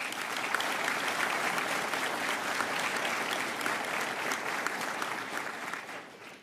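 A university graduation crowd applauds honored bachelor's graduates with steady, even clapping from a large hall, moderately distant and sustained before tapering at the end.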